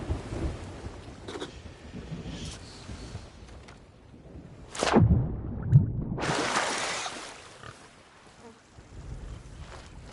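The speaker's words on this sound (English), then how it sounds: "I hear that storm over yonder." A thunderstorm rolls over the sea in Sea of Thieves, with a loud crack and rumble of thunder midway, then a roaring surge of wind and rain over steady ambient water and wind noise.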